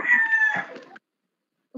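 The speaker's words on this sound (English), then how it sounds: "Hey, chicken." A chicken gives a short crowing, clucking call lasting about a second, close and clear, followed by silence and a brief voice at the end.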